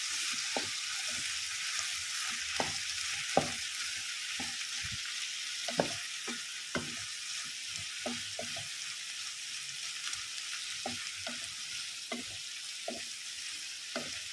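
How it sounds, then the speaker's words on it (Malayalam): Chopped tomato, onion, green chili and curry leaves sautéing in a pan for a mushroom masala curry, a steady close sizzle broken by scattered soft stirring knocks, with no talking. "രണ്ട് ചെറിയ തക്കാളി പച്ചമുളക് ഇതെല്ലാം ചെറുതായിട്ട് അരിഞ്ഞ് ഇട്ട് കൊടുക്കും ഒന്ന് വഴറ്റിയെടുക്കാം"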